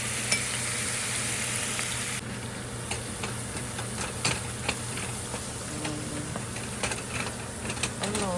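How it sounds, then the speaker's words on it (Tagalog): Garlic frying in a pan until golden brown before beef goes in for bitter melon con carne, a steady sizzle dotted with small crackles and light ticking spatter throughout. "Tayo lang natin mag golden brown yung ating bawang."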